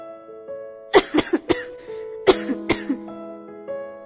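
A woman who has had a cough for weeks coughs in a cluster of sharp, close bursts, then another short run of coughs, with faint background tones between.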